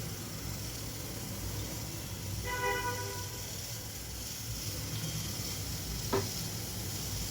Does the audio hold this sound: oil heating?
yes